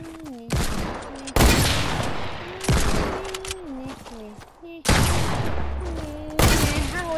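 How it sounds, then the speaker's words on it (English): Repeated loud gunshots from a hunting rifle in Fortnite, several sharp cracks spaced a second or two apart, each with a ringing tail, over the game's steady tonal music. "I have a thing, but it's a sniper. A hunting rifle."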